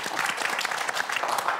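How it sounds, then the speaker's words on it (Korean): A studio audience on a Korean talk show applauds briskly to welcome guests who traveled from Busan. The clapping is dense and steady at close range through the whole moment, with no talk over it. "박수로 맞이해 주시기 바랍니다."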